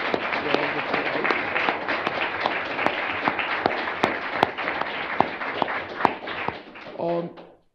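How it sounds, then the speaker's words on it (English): Applause for the speakers at the close of a constitutional law event on national security and national origin, a dense crowd clapping with sharp individual claps cutting through, ending in a brief trailing voice. "could we get one last collective round of applause?"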